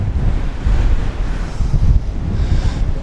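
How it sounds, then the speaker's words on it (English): Strong wind buffets the microphone on an exposed hilltop viewpoint in Bradgate Park, a loud continuous low rumble with gusting swells and no talking. "You can hear the wind in the mic."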